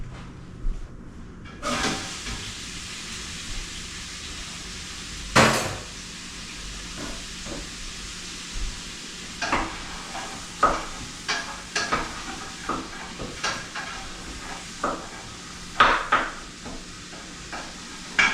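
Diced onion, carrot and celery sweat on high heat in a pot for split pea soup, a low steady sizzle punctuated by repeated scraping knocks of stirring every second or so, close by.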